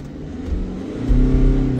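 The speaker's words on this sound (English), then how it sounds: "You can see now we can rev it way higher." A SAIC Maxus Deliver 9 diesel van engine revs upward, its low rumble swelling louder and rising in pitch near the microphone while a fault with the diesel particulate filter is being diagnosed.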